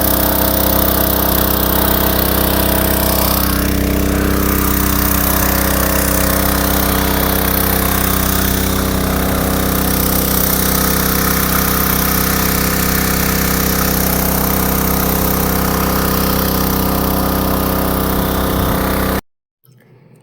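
A water pump motor on a dry farm field runs steadily and loudly after being restarted, a dense continuous mechanical drone with a low hum that stops abruptly near the end.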